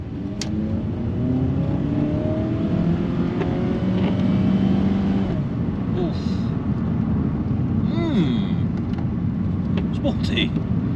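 An MK4 Vauxhall Astra Coupe pulls away hard in sport mode, engine note rising through the revs and dropping at a gear change, then climbing again, heard from inside the car under steady road and wind roar.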